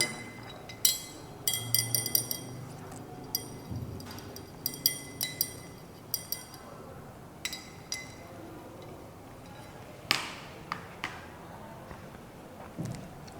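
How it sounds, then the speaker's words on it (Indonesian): A glass stirring rod clinks against a glass of coloured solution during a classroom elephant toothpaste chemistry demonstration, light, quiet taps repeating irregularly with small pauses between them. "Kita aduk menggunakan batang pengaduk."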